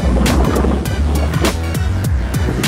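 Strong onshore wind buffets an open microphone on a Sea of Japan surf beach early in the morning, a loud continuous roar with repeated sharp gusts hitting roughly every half second, surf noise mixed underneath.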